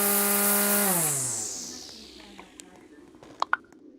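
A lawn mower or weed eater in a grass-cutting roleplay video game whirs loudly, then winds down in a falling drone before a few sharp clicks and taps follow in the quiet.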